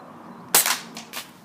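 A single sharp crack of an air pistol fired at water balloons outdoors, followed by two quieter pops or splashes within a second.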